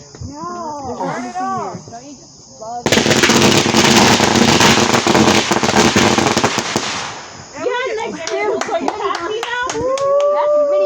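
Fourth of July fireworks burst in a dense, loud crackling barrage lasting several seconds, with children and adults talking and shouting before and after the volley.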